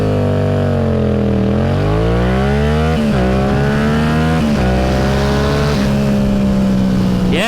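A sport motorcycle, either a Yamaha R7 or a Kawasaki ZX4RR, revs hard and accelerates through the gears on a road, its loud engine note climbing and dropping at each shift, close to the rider with wind rush beneath.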